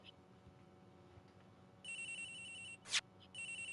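A cell phone ringtone rings in the Ace Attorney Investigations video game, a steady electronic tone that starts partway through, then a brief sharp blip, then the ringing resumes.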